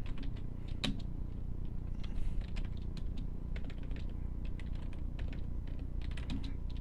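Keys clatter on a computer keyboard as code is typed, a steady run of quick, close clicks with one sharper tap near the start over a low room hum.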